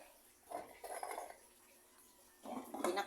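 A metal pot lid set back onto a cooking pot of pumpkin, moringa and small crabs, with two short clattering bursts separated by a quiet pause, close and fairly soft.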